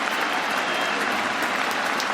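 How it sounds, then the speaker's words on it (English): Big cricket crowd at the Oval roaring and applauding in a dense, continuous wash of clapping and cheers as England's leading run scorer reaches a hundred in his farewell match in 2018. "The crowd go berserk."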